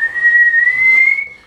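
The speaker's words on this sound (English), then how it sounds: "put your lips together, kind of make like a circle, and then blow soft and subtly" A person whistles one clear, sustained tone, blowing softly through rounded lips; the pitch rises slightly and holds for about a second before fading out, close and alone.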